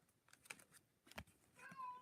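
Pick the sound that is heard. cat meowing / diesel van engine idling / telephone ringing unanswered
cat meowing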